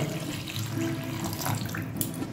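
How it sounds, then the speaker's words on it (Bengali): Water runs steadily from a tap into a cooking pot of tomato and sugar for a vegetarian curry, a continuous close splashing and gurgling pour with no talk. "এবার দিয়ে দিচ্ছি জল।"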